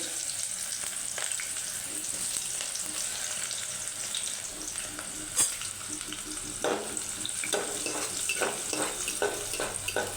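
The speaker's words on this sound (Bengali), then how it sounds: "এখন বেরেস্তার জন্য পেঁয়াজকুচিগুলো দিয়ে দিতেছি" Chopped onions frying in oil to make birista for a vegetable kabsa give a steady, moderate sizzle throughout, with a few spoon and pan clatters in the second half and no speech.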